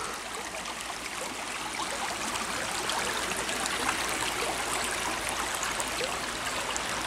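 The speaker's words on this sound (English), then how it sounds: "Little babbling brook." A small babbling brook gives a steady, even rush and trickle of flowing water that runs without a break, close by and with no talk over it.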